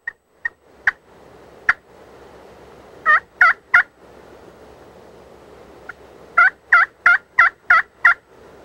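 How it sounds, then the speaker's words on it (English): Wild turkey gobbling at a distance in spring woods: several isolated calls, then two tight runs of repeated gobbles, clear over a quiet background with no talking. "a hard gobbling bird cranks up in the distance and heads away from the hunters"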